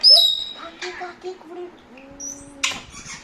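A parrot sings a short tuneful string of whistled, voice-like notes up close, ending with a sharp squawk.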